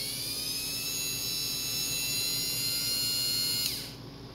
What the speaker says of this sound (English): we're going to start with the Dremel. Easy. This is on the lowest setting.